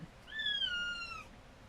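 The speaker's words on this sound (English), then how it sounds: "Oh hey, our stream cat has arrived." A cat gives a single clear, drawn-out meow, soft and indoors, with a faint quiet background.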